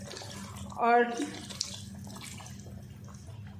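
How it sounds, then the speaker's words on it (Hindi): Water is poured into a masala curry with chicken pieces, giving a short splashing, gurgling burst about a second long. A low steady hum continues underneath. "अब इतना पानी हम डालेंगे कि चिकन भी अच्छे से गल जाए"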